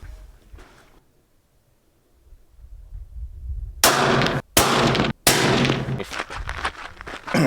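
A Browning X-Bolt II 6.8 Western rifle fires three loud, booming shots in quick succession outdoors, each with a long rumbling tail, after a quiet lead-in.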